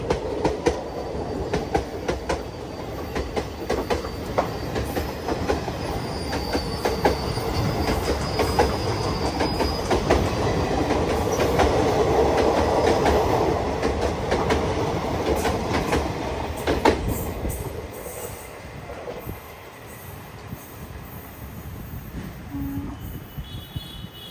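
A Guruvayur–Thrissur express running on rails toward Thrissur station in Kerala, a steady loud rumble with clickety-clack wheel beats and occasional squeal, swelling mid-way and easing off toward the end.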